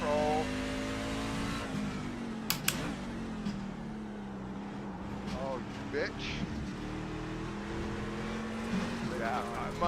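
Race car engine in a racing video game, revving and whining with rising and falling pitch as the car drifts, with someone talking and exclaiming over it.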